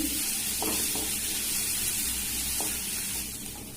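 Garlic frying in hot oil in a pan for bitter gourd curry, a close, steady sizzle and hiss with a few soft stirring scrapes and no talking.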